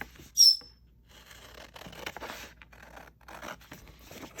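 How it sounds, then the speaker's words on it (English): Scissors cutting out a paper shape at close range: a short sharp snip near the start followed by a run of soft scraping and rustling cuts, quiet and without talk. "So I'm going to cut this out."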